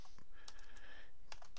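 Quick, close clicks of computer keys being typed, a few scattered taps with a short burst near the end, faint against a quiet room.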